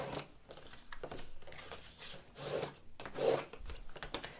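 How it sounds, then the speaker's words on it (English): A paper box is folded and its crease lines burnished, producing soft, repeated rubbing and scraping strokes, close and faint, in an irregular rhythm. "now you can fold and burnish. So we're going to fold in, burnish those crease lines nice and strong."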